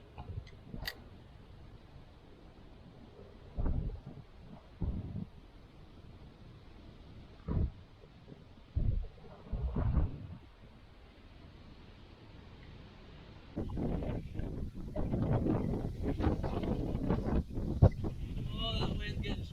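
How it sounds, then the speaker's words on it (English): Strong wind at a fishing pond buffets the microphone, with scattered bumps and thumps first, then a sustained loud rumbling roar filling the final stretch. "that wind's getting strong out here"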